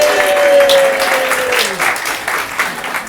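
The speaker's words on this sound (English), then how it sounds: "for turning up, give yourselves a round of applause" An audience at a limerick competition final gives a round of applause, steady dense clapping filling the room at close range, with a brief tonal sound early on and the clapping slowly thinning toward the end.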